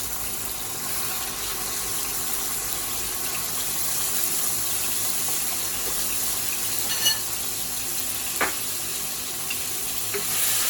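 Chili bean paste sizzling in a high smoke point oil for a spicy Chinese Ma Po tofu, a steady close frying hiss with a faint stir or tap near the end.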